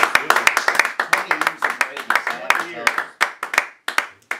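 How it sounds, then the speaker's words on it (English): Scattered claps ring out in a round of applause for kitchen staff, a small group clapping unevenly at close range, with voices speaking over and between the hand claps. "Round of applause for the kitchen staff."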